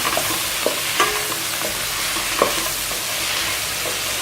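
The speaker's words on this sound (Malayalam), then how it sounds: "ഇതിലോട്ട് ഒരു 5 തക്കാളി അരിഞ്ഞ് വെച്ചിട്ട് ഇട്ട് കൊടുക്കുക. എന്നിട്ട് ഇതൊന്ന് വഴറ്റിയെടുക്കണം." Five chopped tomatoes sautéing in a pan with onion, a steady soft sizzle with occasional light scrapes of stirring, close and continuous, with no talking.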